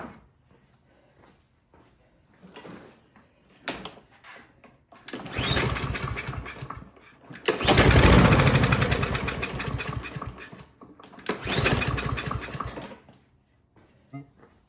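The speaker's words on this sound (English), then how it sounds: "It tried to pop off, so that means you have spark." Craftsman M320 lawn mower small engine being cranked with starting fluid, bursts of sputtering effort in several pulls separated by quiet gaps, one briefly catching and popping before dying away, recorded close.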